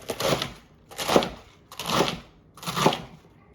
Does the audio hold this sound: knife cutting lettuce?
yes